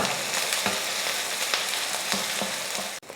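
Shallots and curry leaves sauté in hot oil with a loud, close, continuous sizzle, punctuated by soft periodic scrapes of stirring and a brief knock near the end.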